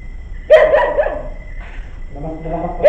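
A dog barks sharply several times nearby, loud yelping barks in two bursts with a short pause between, during a ghost-hunting session.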